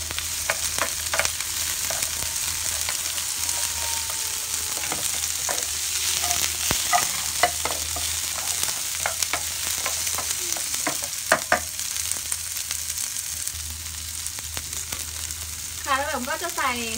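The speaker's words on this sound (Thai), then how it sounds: "ก็ผัดกระเทียมกับพริกนะคะให้หอมแล้วก็หม่ำจะใส่ก้านบรอกโคลีลงไปนะคะ" Garlic and chili stir-fried over high heat in a pan with broccoli stems going in, a steady loud sizzle with repeated scraping stir strokes and clinks of the utensil against the pan, no talking.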